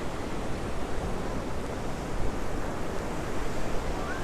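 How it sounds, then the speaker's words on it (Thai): Ocean waves wash ashore at Mae Ramphueng beach in Rayong, a steady broad surf roar with wind noise, continuous and fairly close, no voices. "วันนี้ทะเลสวยมากเลยค่ะน้ำใสใส คลื่น ซัดฝั่งมาขาวสะอาดเชียวนะคะ"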